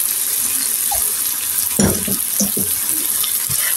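Pasta being stirred in a pan with soy sauce and cream, a constant wet sizzle with a few thick, sloshing stirs and spoon scrapes near the middle.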